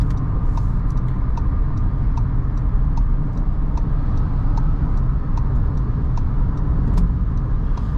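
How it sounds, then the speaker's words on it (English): A VW Virtus 1.5 manual cruises a concrete expressway, filling the cabin with loud, steady broadband road rumble and faint regular ticks throughout. "on any concrete/cement expressway, okay, you will experience a lot of road noise"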